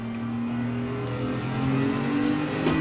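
A car in a racing simulator game leaves the pits toward an oval for drifting, its engine holding a steady droning tone that rises slightly as it accelerates, loud and continuous with no talk.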